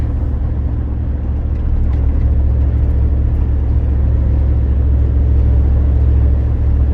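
Deep, steady road rumble and engine drone inside a 2003 Chevy Tahoe cruising at about 60 mph on the highway, a constant low hum with no breaks.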